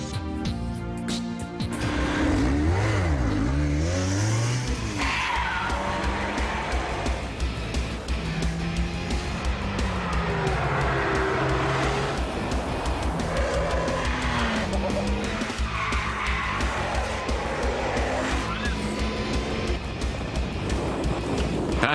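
A Lotus Exige S sports car is driven hard around a race track, its engine revving and shifting while the tires squeal and skid through corners, loud and continuous.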